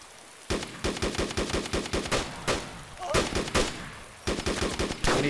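Rapid bursts of gunfire in the survival video game DayZ, loud and close, with repeated volleys of shots separated by short pauses across the whole stretch.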